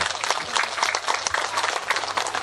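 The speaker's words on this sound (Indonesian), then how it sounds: "Mudah-mudahan tepuk tangan untuk panitia ya." Audience applause for the organizers at an Islamic religious lecture gathering in Cipeundeuy, West Bandung: dense, steady clapping from a crowd, filling the whole short stretch at moderate loudness.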